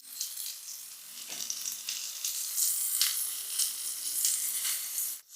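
Yakitori chicken pieces browning in a pan, pressed against its side, sizzle and crackle steadily and close by, a continuous bright hiss with small pops and no talking.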